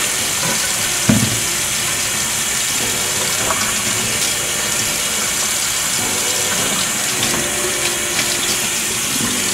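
Warm water runs steadily from a tap for washing natural hair, a loud continuous splashing rush with a faint mechanical hum beneath it.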